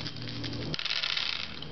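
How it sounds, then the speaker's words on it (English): Seven dice rolled for a board game, clattering together in a quick rattle that runs for over a second, alone with no talk. "So I will roll 7 dice"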